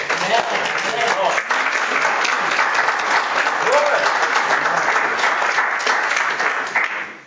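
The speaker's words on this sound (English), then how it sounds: "Let's give God a round of applause." A church congregation applauds loudly and steadily for several seconds, dense clapping with some voices mixed in, tapering off at the end.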